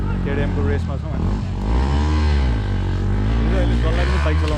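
KTM Adventure 250 motorcycles at a crowded competition race track and trail, engines droning loud and close with a rising rev partway through, people talking over the noise.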